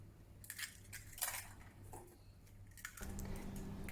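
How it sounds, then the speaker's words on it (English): Eggs are cracked into a bowl for Japanese tamagoyaki: faint, close crunching of shells with light clinks against the bowl, and a soft pour near the end. "Crack 4 eggs in a bowl."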